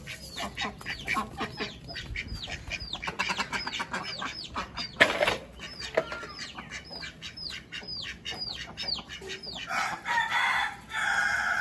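Young chicks pecking at scattered grain, peeping in rapid, repeated high chirps from many birds close by, with some scuffling and a few louder calls, no talk.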